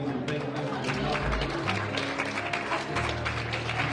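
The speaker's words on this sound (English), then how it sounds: "let's just give the Lord a hand clap of praise" A church congregation at a midweek service claps their hands in praise, a dense, close round of clapping mixed with voices and low sustained tones underneath.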